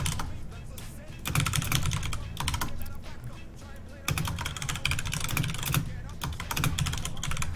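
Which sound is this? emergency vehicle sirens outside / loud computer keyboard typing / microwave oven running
loud computer keyboard typing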